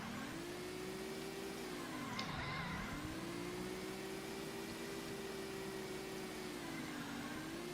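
In the Roblox game Tiny Wheels, a car drives around a track with a steady, droning engine hum that dips briefly in pitch before settling back to an even tone, with no talking over it.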